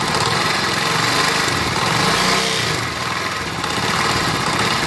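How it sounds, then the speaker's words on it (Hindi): Motorcycle engine running and revving with a noisy, rattling timing chain, a steady close mechanical clatter and buzz lasting throughout with a brief dip in level partway through. "ये जो साउंड है ये बेसिकली टाइमिंग चेन की साउंड है।"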